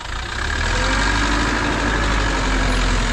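A truck loaded with stones from a quarry idles loudly and close by, its heavy diesel engine holding a steady, deep rumble as it waits to reverse.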